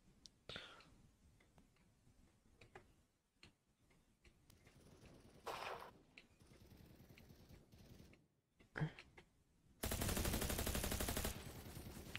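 Scattered quiet video game shots and clicks pop intermittently, ending in a loud sustained burst of automatic gunfire.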